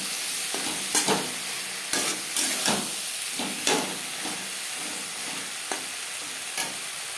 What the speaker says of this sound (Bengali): মশলার সাথে বেগুন কষাবো মিডিয়াম ফ্লেমে।